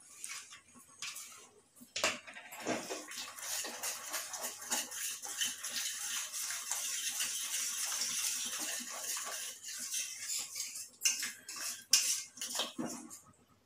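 A metal spoon stirs chopped almonds into thickening Bombay halwa in a pan, making repeated scraping and clinking against the pan at close range with no voices.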